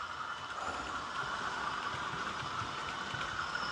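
A ROCO model train pulls in and slows on a layout, giving a faint, steady mechanical hum that holds evenly throughout with no voices.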